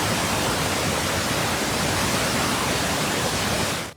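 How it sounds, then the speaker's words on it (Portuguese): A waterfall in Gramado roars as a dense, constant rush of falling water, loud and close, filling the whole span before cutting off abruptly at the end. "por causa do barulho da queda"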